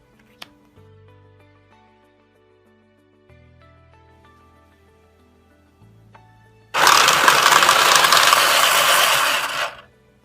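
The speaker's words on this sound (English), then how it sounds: "we've used this slightly off-screen here, wonderful automatic card shuffler" An automatic card shuffler works through a deck: quiet mechanical whirs and clicks at first, then a loud, dense burst of riffling cards for about three seconds before stopping.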